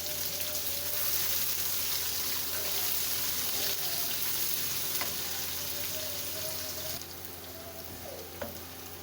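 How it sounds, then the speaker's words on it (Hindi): Onions sauté in a pan with garlic for vegetable chow mein, giving a steady, close sizzle like light rain. A few faint utensil clicks come through, and the sizzle eases slightly near the end. "प्याज को भी बस मैंने हल्के से सोते करना है।"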